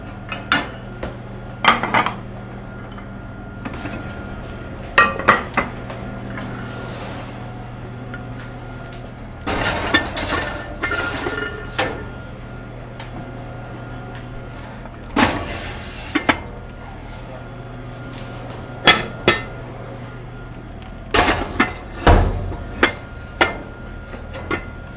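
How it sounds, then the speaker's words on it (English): Metal pots clank and knock in scattered sharp bursts as they are set on and pushed back into a hot oven while bread is baked, with a steady low hum underneath throughout. "then we want to get the pots on and then back in the oven as quickly as we can"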